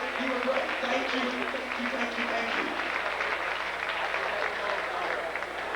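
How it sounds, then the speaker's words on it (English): An audience at the Miss Gay USofA 1996 pageant applauds the Village Station staff with dense, steady clapping that holds at an even level throughout. "We must give a huge round of applause to the Village Station"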